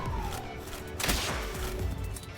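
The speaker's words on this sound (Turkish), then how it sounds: "Ha, bomba atıyorlarmış." Enemies in Palworld throw bombs, giving a faint, muffled burst with thumping impacts and a brief crackling blast in the middle of a quiet game scene.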